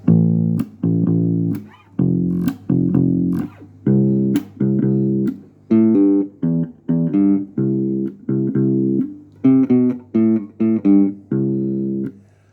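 Bass guitar plays the introduction of a song alone, clear plucked notes in a steady rhythm with brief gaps between phrases.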